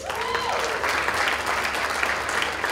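An audience at a conference claps steadily, a full, even wash of many hands with a brief voice heard at the very start.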